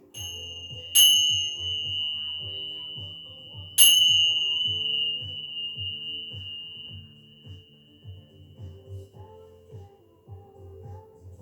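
Meditation bells ring twice during a chair yoga session, each a bright struck tone with a long sustained decay, over a soft, steady tonal backdrop of ambient music.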